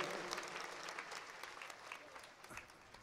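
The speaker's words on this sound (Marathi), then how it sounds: "आपण जरा टाळ्या वाजवा जोरात" A crowd at a kirtan felicitation applauds in a continuous wash of clapping, moderately faint and steady for a few seconds with scattered louder claps.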